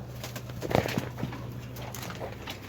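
Pigeons of several breeds in a loft, with soft, faint cooing and a few light thumps and flutters from the birds close by, no talk.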